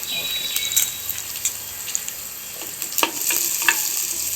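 Garlic and onion fry in a pan at home with a constant bright sizzle, close and fairly loud, broken by occasional stirring scrapes and crackles.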